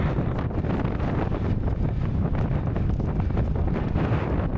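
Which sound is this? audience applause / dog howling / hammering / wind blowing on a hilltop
wind blowing on a hilltop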